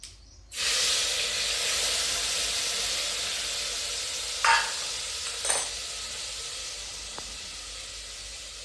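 Spices hitting hot oil for a Gujarati vaghar tempering in a village kitchen, a sudden loud burst of sizzling that settles into a sustained close hiss, with a couple of brief sputters and a small clink later.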